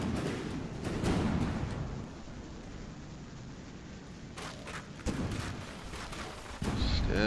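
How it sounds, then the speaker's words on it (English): Missiles fired in a video game battle, heard as muffled booming blasts and a sustained rumbling barrage, with sharper hits around the middle and a louder burst near the end, no talk. "Still throwing in the missiles."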